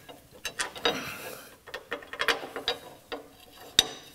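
Ratchet tightening socket cap screws on the carriage of a LeBlond lathe under restoration, a quick series of close, sharp ratcheting clicks in short uneven bursts, with no talking.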